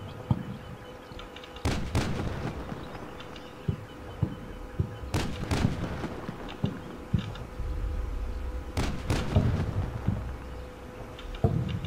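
Distant artillery fire in Combat Mission Shock Force booms out in several separate thuds spaced a few seconds apart over a low ambient hum.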